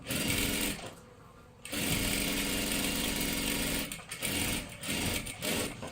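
An electric sewing machine stitches tucks on a size 40 top. The motor hums and whirs steadily close by in long runs, with brief pauses between bursts of stitching and no talking.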